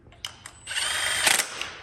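A power impact wrench works on the bottom end of a CR250 engine, with two quick taps and then a sustained loud, close rattling hammer burst.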